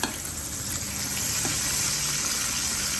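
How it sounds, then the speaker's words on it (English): Bacon frying in a hot pan, with a steady, close sizzle and crackle that runs continuously at even loudness and no talk over it. "And we're going to flip our bacon."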